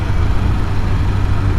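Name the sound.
BMW S1000R motorcycle engine blipping down to third gear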